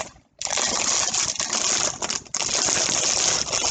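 A plastic package is crinkled and handled at close range while yarn is unboxed, a dense, continuous rustling that briefly pauses at the start and again midway.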